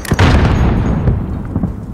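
A deep, loud boom of a mortar explosion in the video game Call of Duty Modern Warfare, with a rumbling tail that fades over about two seconds.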